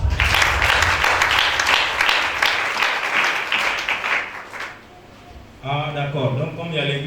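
A church congregation bursts into sustained applause and cheering for about five seconds, then fades. A voice speaks as the clapping dies down.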